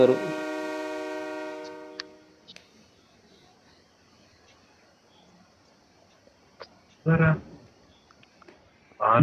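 Long train horn blast from a train in the mobile battle royale game BGMI, loud at first and fading after about two seconds, followed by quiet game ambience with a brief thump near the end.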